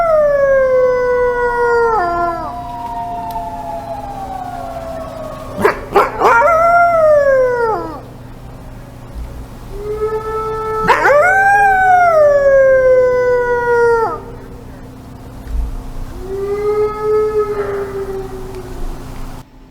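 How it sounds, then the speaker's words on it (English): Long, rising and falling red wolf howls overlap in several voices, sliding up and down in pitch in repeated waves, with a steady low hum underneath. "let's go ahead and look at the red wolf howl."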